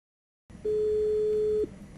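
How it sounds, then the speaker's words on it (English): A Nokia 220 4G keyboard phone places a call and plays a single steady ringback tone lasting about a second, loud and clear over faint background hiss, with no talking. "The other phone is ringing, but I don't have it right now with me to answer"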